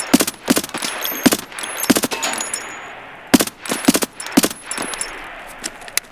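Sharp gunshots ring out in Escape From Tarkov, several close, loud cracks in quick clusters separated by short pauses, with metallic clinks between bursts.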